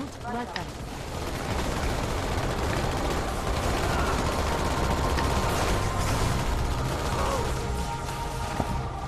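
Dense, continuous gunfire and explosions in the video game Halo 2 Anniversary form a loud, unbroken wall of noise throughout.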